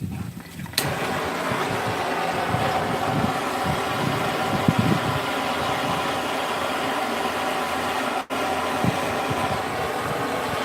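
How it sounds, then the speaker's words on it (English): Strong, cold wind blows outdoors in a steady, loud rumble with continuous buffeting across the whole stretch, briefly dropping out near the end. "With this cold air and all this freaking wind"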